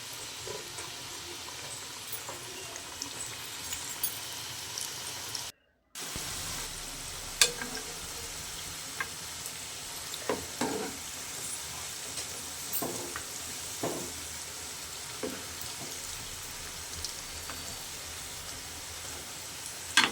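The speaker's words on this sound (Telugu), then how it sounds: "ఒక్కొక్కటి వేసుకోవాలండి పనస్తోళ్ళు అనేవి. మీడియం ఫ్లేమ్లో వేయించుకోవాలండి." Jackfruit pieces fry in hot oil over a medium flame, giving a steady soft sizzle with occasional crackles and pops, briefly cut silent partway through.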